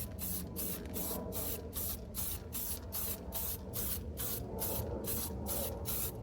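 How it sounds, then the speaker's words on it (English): An aerosol can sprays paint onto a 3D-printed play button, giving a close, loud hiss in short regular bursts with brief gaps between them and no one talking. "So now I'm going to spray paint it."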